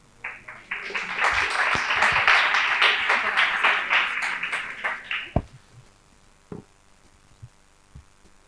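Applause from a conference audience at a pitch event rises quickly into a dense, loud clatter of clapping, then thins into a few scattered claps.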